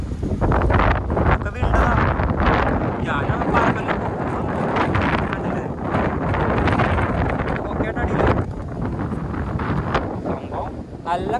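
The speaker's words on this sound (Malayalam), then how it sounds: "നല്ല കാറ്റും, നല്ല കാറ്റ്, നല്ല കാറ്റാ." Strong wind buffeting the microphone on a hilltop near a temple at Alathur, Palakkad, a loud continuous rumbling roar with gusts, and a person talking over it.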